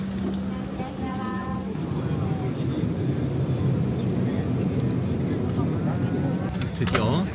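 Steady broadband airplane cabin roar on a flight to Taiwan, loud and continuous throughout, with a low hum underneath and some faint tonal whines; people talk in the cabin over the engine noise.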